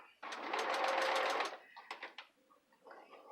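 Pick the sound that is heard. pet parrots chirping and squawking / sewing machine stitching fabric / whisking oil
sewing machine stitching fabric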